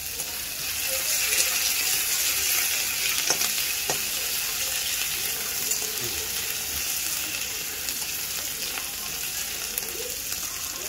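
Crushed ginger and fenugreek leaves fry in a pan for a potato dum, giving a continuous close sizzle with occasional scrapes and stirring clicks, and no voices.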